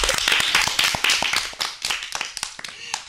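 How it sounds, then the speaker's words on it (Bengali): Children clap their hands loudly at a gathering, a dense run of sharp, irregular claps that swells and fades over a few seconds, close and crowded, with some voices mixed in. "একটু জোরে হাততালি দাও"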